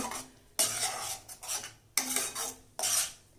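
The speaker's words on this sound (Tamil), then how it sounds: "சேர்த்து நல்லா கிளறி கொடுத்துருங்க." Cashew paste is stirred into a pea gravy in a pan for a restaurant-style matar curry, with a spoon scraping and clinking against the metal in three bursts of thick stirring separated by short pauses.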